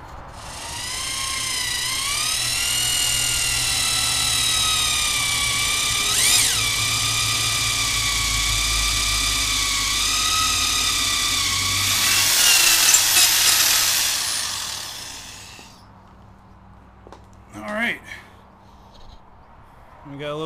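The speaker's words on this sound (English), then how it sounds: "I'm actually going to drill this out, start getting these holes ready to be tapped" Power drill boring holes into an intake manifold for a hybrid EJ22T/25D engine, a sustained high whine with shifting pitch that cuts off near the end, followed by brief tool clatter and a speaking voice.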